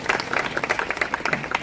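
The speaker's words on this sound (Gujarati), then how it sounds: "તાળીઓ જોરદાર બેન નિષ્ઠા માટે પણ" Applause for a singer at a Gujarati community stage event in Reliance Township, a brief burst of dense clapping from a crowd, steady and fairly close, with no one speaking over it.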